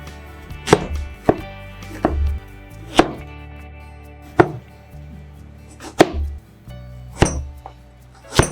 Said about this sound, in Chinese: 我们将土豆削好皮，再把土豆切成块。